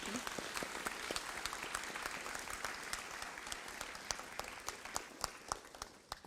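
A crowd at an academic awards ceremony applauds steadily, with many overlapping claps forming a dense, continuous patter that lasts the whole stretch and fades slightly at the end.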